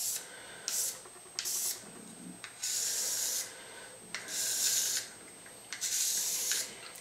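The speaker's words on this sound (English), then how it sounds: "make a grid on the stone with just a regular pencil" Rhythmic scratchy strokes of a regular pencil drawing a grid across a hard sharpening stone, several bursts back and forth with short pauses between them.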